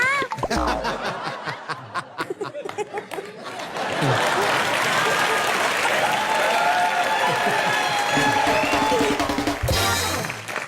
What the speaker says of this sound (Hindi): मेरे लिए कितनी तालियां बज रही हैं।